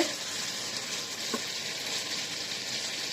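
Potatoes fry in a pan, giving a steady, close hiss of oil sizzling throughout, with a faint clink of stirring partway through.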